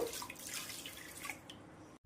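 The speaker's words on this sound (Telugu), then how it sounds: "ఒక గ్లాసు నీళ్ళు వేసుకుందాం" A glass of water is poured into a pot holding potatoes, making a soft, continuous splashing trickle for about two seconds before it stops abruptly.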